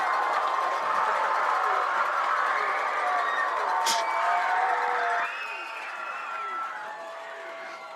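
Karns Beavers fans cheering in the stands at a high school varsity football game against William Blount: a broad, distant crowd roar that holds steady, then drops to a lower murmur.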